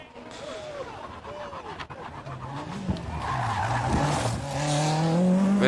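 A Group B rally car skids after a tire blows, with tire scrubbing and engine roar building louder toward the end; someone talks over the first half.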